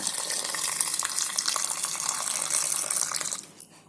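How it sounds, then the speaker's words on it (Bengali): Water pouring steadily into a steel pot of potatoes for aloo dum, a close, full rushing gush that carries on without pause and then tapers off near the end, with no voices. "এবার আমি আলুগুলো দিয়ে পরিমাণ মতো জল দিয়ে দেব।"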